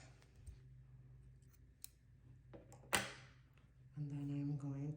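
Scissors snipping through crochet yarn while seaming a granny square sweater, a single sharp cut standing out against quiet background handling noises.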